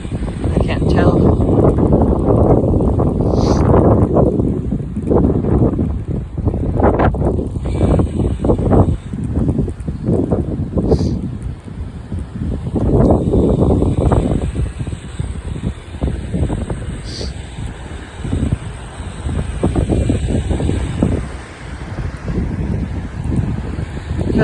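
Strong, gusty wind in Utah roars and buffets the microphone in heavy, surging waves, rising and falling with each gust, with trees rustling and faint distant traffic underneath.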